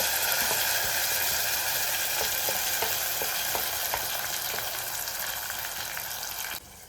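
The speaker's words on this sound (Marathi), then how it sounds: "आता कांदा मस्त लालसर झालेला आहे आणि आता आपले जे बॅटर होता तो सर्व ह्याच्यामध्ये टाकून घ्यायचा" Batter poured over onions browned in a pan for green chicken gravy sizzles loudly and steadily, a dense close frying hiss with faint stirring scrapes, cutting off abruptly near the end.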